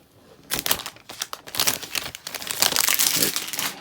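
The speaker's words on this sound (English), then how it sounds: "the big thing is the sound of opening this packaging" Close-up crinkling and rustling of stiff iPhone 12 Pro Max packaging being pulled open, in irregular bursts that grow busier toward the end.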